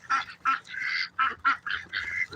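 Ducks and geese give a rapid series of loud, close quacks and honks, about eight calls packed into a couple of seconds with brief gaps, some stretched into harsh drawn-out squawks.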